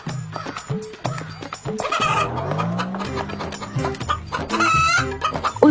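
A cartoon rooster clucks and squawks in short, lively bursts, up close in the foreground, while animated voices talk in between.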